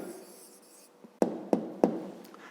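Pen or pencil strokes on paper while jotting down an answer to a math exercise, a soft scratchy scribble followed by three sharp taps or clicks spaced evenly, close and quiet.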